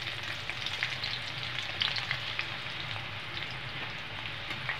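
Chopped onion frying in a pan for a Bengali dish, a close, steady crackling sizzle with scattered pops throughout, no voices.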